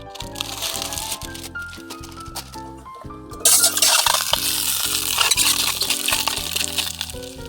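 Bacon and maple sausages fry in a stainless steel pan at a cold-weather campsite; a loud sizzle bursts in partway through and continues under tonal background music, with faint metallic clinks.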